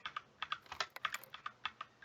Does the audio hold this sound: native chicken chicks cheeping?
no